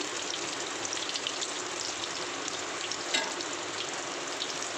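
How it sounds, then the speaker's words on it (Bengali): Fish pieces fry in a modest amount of oil in a pan as they are turned, making a constant, even hiss that stays steady throughout, close by and unaccompanied by voices. "এই যে ভালো করে দু দু পাঁচটা ঘুরিয়ে ঘুরিয়ে ভেজে নিচ্ছি"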